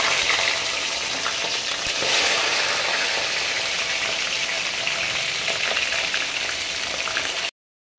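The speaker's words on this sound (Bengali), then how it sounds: "এবার মাছের মাথাটাকে ভেজে নেব তেলে" A hilsa fish head frying in hot oil makes a loud, continuous hiss and crackle that runs unbroken and then cuts off abruptly near the end.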